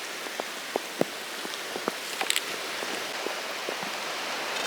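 Rain patters steadily on a beach during a storm, a dense hiss with scattered distinct drops tapping close by and no voices.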